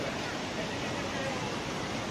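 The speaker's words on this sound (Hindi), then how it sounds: "ये छोटा वाला वाटरफॉल यहीं से शुरू हो रहा है" Cold water tumbles over a small waterfall on the Jogini Falls trek in Manali, a broad unbroken rushing roar heard up close, steady from start to finish.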